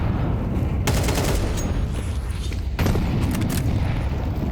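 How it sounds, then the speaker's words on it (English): Gunfire in a competitive tactical shooter match, with bullets punched through windows: dense, loud bursts of automatic fire with booming impacts, two sharp volleys standing out over a continuous roar of game sound. "Couple of bullets being put through those windows."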